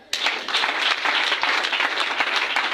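A church congregation at a Sunday service bursts into loud, sustained applause and cheering, dense clapping filling the room from start to finish.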